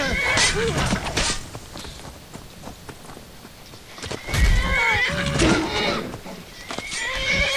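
A horse whinnies in the video game The Elder Scrolls V: Skyrim over a busy mix of hoofbeats and ambient noise, with a voice briefly heard; the neigh rises loud mid-clip.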